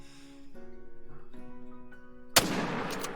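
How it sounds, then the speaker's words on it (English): A single 30-06 rifle shot rings out at a wild boar in the Call of the Wild hunting game, a sharp loud crack followed by a rolling decay, preceded by a quiet rhythmic ambient hum. "We'll try for a perfect hard shot with the 30-06."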